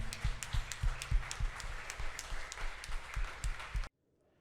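A church congregation gives a burst of applause, dense steady clapping with a few louder individual claps standing out, cutting off abruptly into silence.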